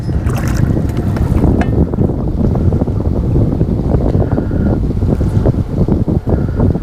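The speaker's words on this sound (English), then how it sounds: "Especially with the wind blowing," Strong, steady wind roars and buffets the microphone beside fast river water while fishing in November, a loud continuous rush with no voices.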